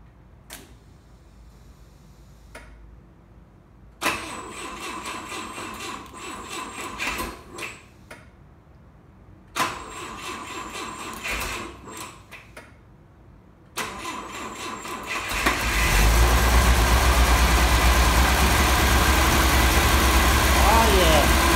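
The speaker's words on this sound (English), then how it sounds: "here's the first time trying to start the engine" A 1970 Volvo P1800E engine cranks in several slow, labored bursts separated by pauses, then catches and settles into a steady, loud idle.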